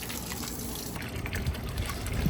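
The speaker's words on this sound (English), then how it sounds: "you guys can see the water spills right out and has to go through the filter floss, then through all these pebbles" Water spilling out of a pond filter through filter floss and a bed of pebbles, a close, steady gushing trickle that splashes continuously for a couple of seconds.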